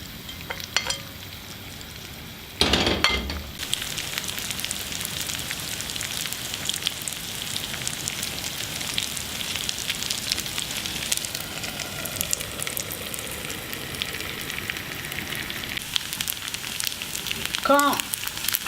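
Spaghetti coated in chickpea flour frying undisturbed in a pan, a steady close sizzle and crackle that carries on evenly throughout, with a brief clatter near the start.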